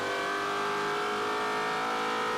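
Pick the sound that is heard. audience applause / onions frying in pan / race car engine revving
race car engine revving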